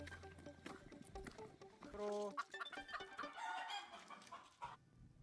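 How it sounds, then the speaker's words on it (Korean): A hen clucks and squawks close by in a busy, uneven stream, with one brief sustained call in the middle, all at a soft level. "이봐 저기 닭 있어 닭. 암탉."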